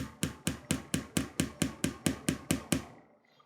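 A dozen quick, evenly spaced hammer taps driving a tack through leather into a hickory hammer handle, sharp and close, in a steady rhythm before stopping abruptly.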